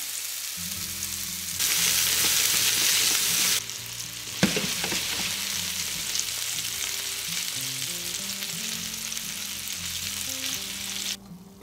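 Meatballs browning in a frying pan give a continuous close sizzle and spatter with occasional clinks and stirring, louder for a couple of seconds early on and then steady throughout.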